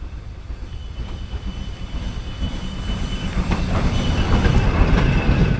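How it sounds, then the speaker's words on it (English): A train rolls past on a railway line near Darley Dale, a steady rumbling roar of wheels with faint rhythmic clicks and a rising squeal, growing louder toward the end, with no voices. "Been watching the trains go by."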